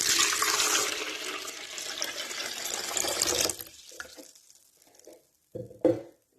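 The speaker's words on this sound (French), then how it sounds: "Alors, je commence par mettre l'eau tiède." Warm water poured into a blender in a kitchen, a loud rushing gush for a few seconds that stops abruptly, followed by a few soft clinks and knocks, with no voices.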